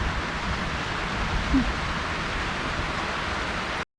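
Rain falls outdoors in Laos during hook fishing, a steady, even hiss that holds throughout before cutting off abruptly.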